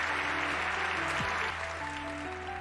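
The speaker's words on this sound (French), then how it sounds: "Ça applaudit fortement." Loud, steady applause from an anime audience fills the scene as a crowd claps continuously, with a low musical drone underneath and no voices standing out.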